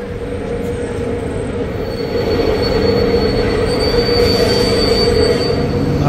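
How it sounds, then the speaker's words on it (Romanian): A train pulls into Medgidia station with a loud, steady high-pitched squeal of wheels on rail over heavy rumbling that grows stronger midway through, close by. "Sosește trenul!"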